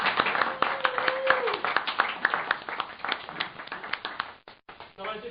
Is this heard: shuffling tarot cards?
no